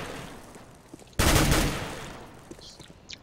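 A loud burst of video game gunfire erupts once for about half a second, ringing and fading over a steady background hiss.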